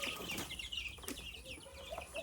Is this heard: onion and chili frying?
no